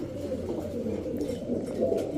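Soft, low coos of female pigeons, including a Royal Teddy, rolling on continuously, close by, with no voices.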